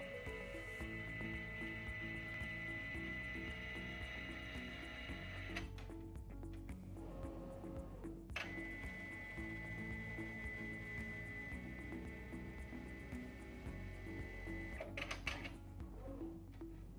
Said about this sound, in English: the printer will ask you to confirm and then proceed with automatically adjusting the platen height